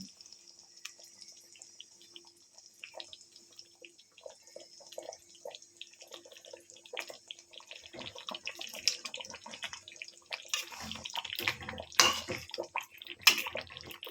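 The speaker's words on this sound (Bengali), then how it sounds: "গ্রেভিটা ফুটে উঠেছে, এবার আমি গ্যাসের ফ্লেমটা একটু কমিয়ে দেব, দিয়ে মাছগুলো ছেড়ে দেব।" Katla fish rezala gravy bubbling in a pan on a gas flame as fish pieces are added, soft dripping and liquid bubbling that grows into louder sizzling splashes toward the end, with no talk.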